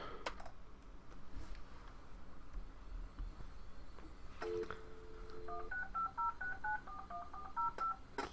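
A WebTV emulator's modem dials out: a short dial tone, then a quick run of touch-tone DTMF beeps in a rapid clipped sequence, faint and clear over low background hiss.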